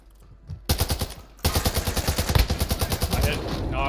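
Loud rapid gunfire in the video game Plunder, a sniper's shots mixed with bursts of automatic fire that crack in quick rhythmic volleys, starting after a brief quiet and growing denser, with a voice talking underneath.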